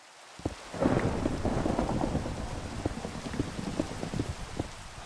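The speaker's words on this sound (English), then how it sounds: "I love the thunderstorms." A Minecraft thunderstorm delivers a loud, rolling thunder crash over steady heavy rain, with rain pattering densely on surfaces throughout.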